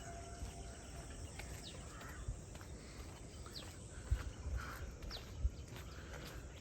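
Scattered bird calls, thin and fairly distant, rise over a faint steady insect hum along a rural village road on a morning after overnight rain.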